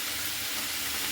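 Vegetables fry in a pan for a vegetarian dish, giving a steady, close hiss of sizzling oil with no pauses across the short stretch.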